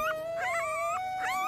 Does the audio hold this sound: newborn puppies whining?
yes